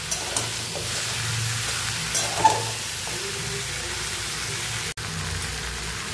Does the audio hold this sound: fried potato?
yes